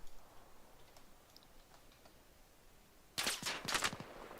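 Short burst of video game gunfire, several rapid cracking shots clustered near the end after a quieter ambient stretch, fairly close and loud.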